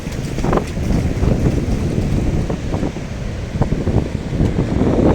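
Waves surging in around a stony beach at Myrtleville, with steady wind buffeting the microphone; a continuous broadband wash with repeated swells, fairly loud and close, no talking.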